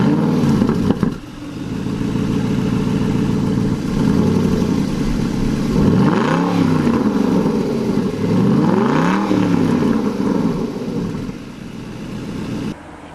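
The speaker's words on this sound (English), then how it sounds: "let's listen to the exhaust note right now." An Aston Martin V8 Vantage S exhaust rumbles at a loud idle, then rises and falls through two sharp revs before settling back. It is heard close up and alone, with no talking.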